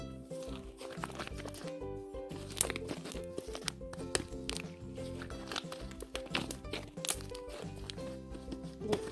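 Fluffy homemade slime of glue, shaving foam and detergent being squished, giving crinkly, sticky crackles and squelches that repeat under steady background music.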